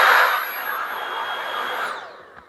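A Dyson V8 Origin Extra cordless stick vacuum cleaner runs with a steady high-pitched motor whine, loud and close, then winds down near the end as it is switched off.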